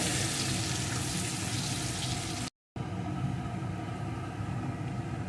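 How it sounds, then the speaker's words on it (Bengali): Crushed garlic fries in hot oil in a pan, a continuous loud sizzle with faint scraping from stirring, briefly cut by a short gap of silence midway. "এখন দিয়ে দেবো এক চামচ থেতো করা রসুন এখন এটাকে একটু নাড়িয়ে নেবো"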